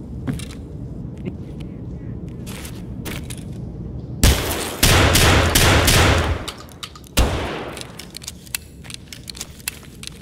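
Gunfire in Escape from Tarkov: sharp shots crack out, then a loud sustained volley and another burst, with scattered clicks and handling noises between them.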